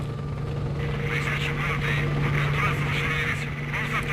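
Military helicopter in S.T.A.L.K.E.R.: Shadow of Chernobyl, a steady loud rotor-and-engine drone with a continuous low hum throughout, mixed under voices talking.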